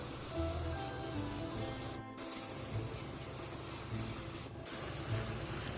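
An airbrush sprays base coat onto a model figure in a steady, close hiss, cutting out briefly twice before resuming.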